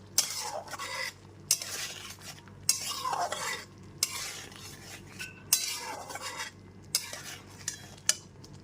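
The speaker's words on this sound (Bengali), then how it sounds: "লবণটা দিয়ে খুব ভালো মতো মিশিয়ে নিচ্ছি" Potatoes and taro being stirred with salt in a pan for a vegetarian taro dum, heard as a run of close, rhythmic scraping strokes with clinks of a utensil against the pan and a faint sizzle beneath.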